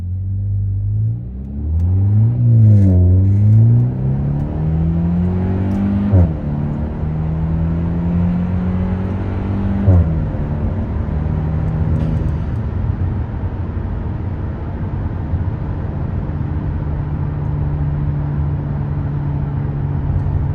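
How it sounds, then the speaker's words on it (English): A Hyundai Kona N Line 1.6T with muffler delete accelerates from inside the cabin, its engine note climbing and dropping as the DCT shifts gears, then settling into a steady, moderately loud cruising drone. "this DCT does sound really good switching gears"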